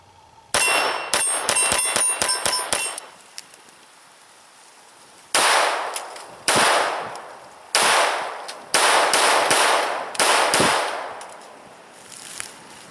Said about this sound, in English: we're going to shoot the Ruger standard model here